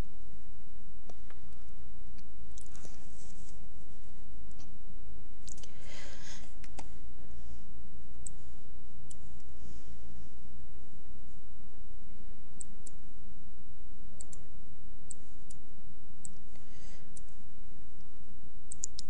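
Mouse clicks from software navigation while checking storage and overview screens, scattered light clicks at irregular intervals over a steady low hum, close and fairly quiet.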